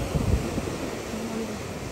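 Ocean waves wash and roar at a water temple in Bali, a steady broad rush mixed with wind buffeting the microphone and close by throughout, with no talking.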